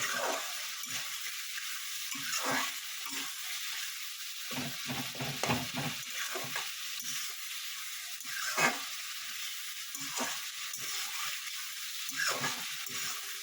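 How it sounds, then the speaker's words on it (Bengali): Potatoes and eggplant fry in a pan with a constant hiss of oil, while a spoon scrapes and stirs them in irregular strokes, close and fairly quiet. "দেখুন এটা একদম ভাজা ভাজা হয়ে এসছে।"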